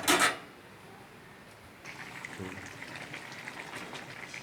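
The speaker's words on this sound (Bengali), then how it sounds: "আমার জল ফুটে গেছে ভালোভাবে।" A pot of rohu fish, potato and Malabar spinach curry with added water at a boil: a brief loud clatter first, then a faint, quiet, steady bubbling simmer.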